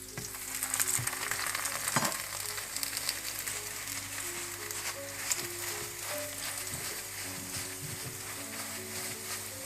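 Lachha paratha cooking in butter on a hot pan gives a steady, close sizzle that runs throughout, with a few faint clinks and scrapes of a utensil and no voices.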